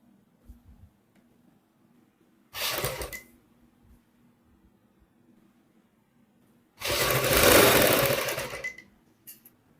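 A sewing machine runs two separate bursts, one short and one longer, as it stitches a second line over a double-piped neck seam. The machine is close and clear, with quiet gaps and no talking in between.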